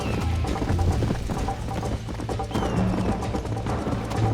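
Hooves of a fast horse gallop in Red Dead Redemption 2, a steady rapid clip-clop rhythm under a dense, busy game soundtrack and ambience, moderately loud throughout.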